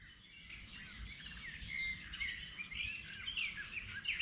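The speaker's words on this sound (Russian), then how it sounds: "Проснулся от щебета птиц." Many small birds sing and chirp at dawn beside the Desenka river near Kyiv, a dense chorus of overlapping calls at moderate distance over a soft low background hum, with no talking.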